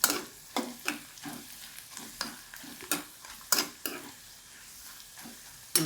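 Pirandai (veldt grape) sautéing in a pan for a chutney, with repeated scraping stirs of a spatula against the pan at an uneven rhythm over a soft background sizzle, no talking.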